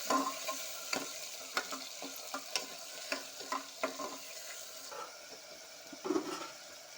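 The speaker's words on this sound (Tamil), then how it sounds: "தக்காளி சேர்த்துக்கலாம் சேர்த்து நல்லா வதக்கிக்கலாம்" Onions and tomatoes sizzle in a pan while a spoon scrapes and stirs in irregular strokes, close and moderately quiet, with no talking.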